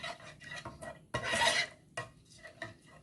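A utensil stirs lime juice and honey dressing in a bowl, making faint scraping and clinking strokes with one louder swirl in the middle.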